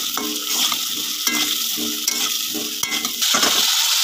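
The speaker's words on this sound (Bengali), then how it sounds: "আলুগুলোকে ভালো করে ভাজতে হবে এবং সিদ্ধ করতে হবে।" Cut potatoes fry in a pan with a loud, close sizzle, broken by repeated scraping strokes of a spatula stirring against the metal and a few sharp clinks, with no voices.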